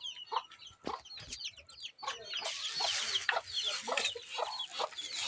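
Turkeys and ducks at afternoon feeding time, with bursts of clucking, gobbling and quacking near and far that build into a busy, overlapping flock chorus.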